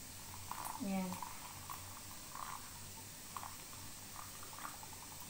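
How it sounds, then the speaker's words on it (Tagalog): Hot water is poured into coffee to dissolve it, a brief close splash and rising fill lasting about a second, followed by quiet kitchen background with faint taps. "lagyan natin ng konting mainit na tubig para matunaw yung lahat"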